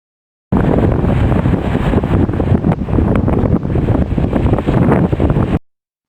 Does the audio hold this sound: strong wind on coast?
yes